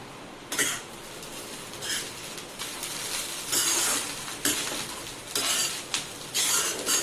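Cooked rice and steamed dal are mixed in a pan with a metal spoon, making repeated loud scraping and clattering bursts over a low sizzle.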